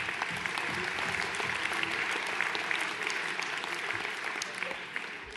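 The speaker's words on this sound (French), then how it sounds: "Joseph Nouvelon, que l'on peut applaudir, s'il vous plaît." Dense, steady applause from an audience at a town's New Year greetings ceremony, fairly distant and even throughout, with some faint voices mixed in.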